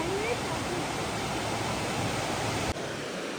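Water rushes steadily beside the old mill in the tourist village of Elora, Canada, a close, even hiss of flowing water that barely changes, with a brief dip near the end.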